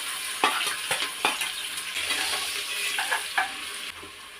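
Onions dropped into hot oil for attukal kuzhambu masala, a loud close sizzle and crackle with repeated spoon strokes stirring through the pan.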